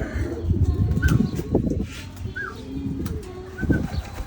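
Pigeons coo and flutter nearby after returning from flying rounds, with a few soft rising calls and brief wing flaps over a faint, busy background.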